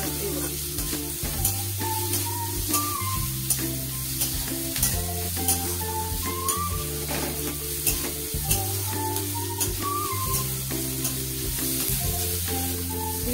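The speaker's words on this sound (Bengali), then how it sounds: "পেঁয়াজ ভাজা হয়ে গেছে," Onion with green chillies fries in a pan for aloo paratha filling, giving a close, steady sizzle with repeated stirring scrapes throughout and no talking.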